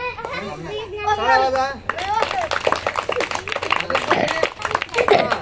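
At a school athletics event, students clap in rapid, uneven bursts while children shout and chatter and an adult's voice carries over the noisy crowd.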